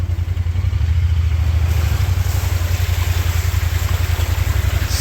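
Kawasaki Pioneer 1000 UTV, exhaust and snorkel fittings going under, easing into a pond: a steady loud low engine drone with rhythmic pulsing, overlaid by continuous splashing and water churning throughout.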